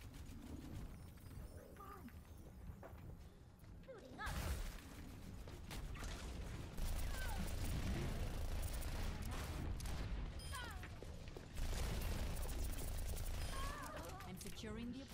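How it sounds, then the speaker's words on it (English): Sombra's submachine gun fires in Overwatch in repeated rapid bursts, crackling and loud, layered with other game effects and mechanical clatter across the match. "This little submachine gun packs one heck of a punch."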